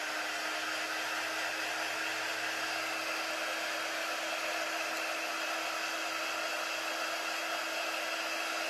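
A hair dryer blows steadily on fresh paint on a hand-painted sign, a constant close whooshing hum with a steady motor whine that never changes, with no talking.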